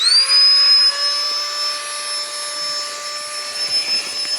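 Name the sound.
pump inflating a sleeping mat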